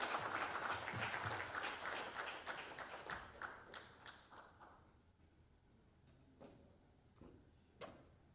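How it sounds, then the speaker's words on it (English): A hotel ballroom audience at a scientific symposium applauds an honoured professor, dense and loud at first, then thinning over several seconds to scattered individual claps. "Big applause to Professor Ofaya"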